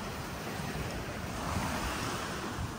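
Ocean surf washing onto a beach where horses are ridden, a steady broadband roar of breaking waves with wind buffeting the microphone throughout, no voices.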